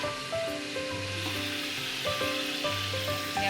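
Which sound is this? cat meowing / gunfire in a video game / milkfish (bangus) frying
milkfish (bangus) frying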